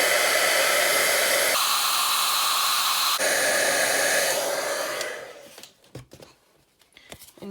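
Heat embossing gun blowing a steady, loud airy whoosh over stamped watercolour ink on paper, running continuously for about five seconds before cutting off, followed by faint handling knocks.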